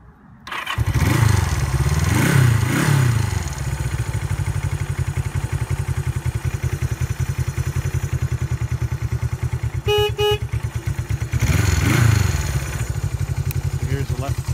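A Honda CB360 motorcycle starts up and settles into a loud, steady idle, with a few blips of the throttle and a short horn toot partway through, heard close.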